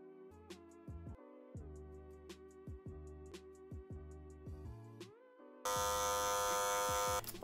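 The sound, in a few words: electric hair clippers fading hair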